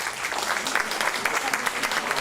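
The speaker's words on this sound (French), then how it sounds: "Vous les applaudissez ?" A conference audience applauds visiting students and their teachers during a lecture on the abolition of slavery in the British colonies: a short burst of continuous, moderately loud crowd clapping with no voices over it.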